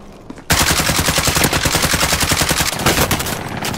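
Rapid automatic gunfire in the video game Call of Duty Warzone bursts in suddenly and hammers on in dense, loud volleys with brief pauses, close and dominant with no speech.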